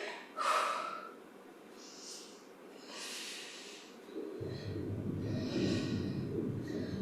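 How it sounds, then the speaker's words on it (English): Heavy, forceful breaths and snort-like exhales from someone working through an at-home strength workout for people over 55, repeated in bursts, close and alone, with a steady low rumble joining partway through. "You want that breath to be flowing."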